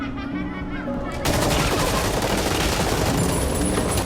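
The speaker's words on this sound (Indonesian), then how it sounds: "Untung aja nembaknya ke atas cuy." An AKM rifle fires into the air in the Free Fire game, a loud, continuous rapid burst that begins after a short stretch of voice and runs to the end.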